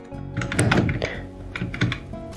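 Quick bursts of keystrokes on a computer keyboard, close and fairly loud, with irregular clacks and a couple of heavier thunks between short pauses; no talking.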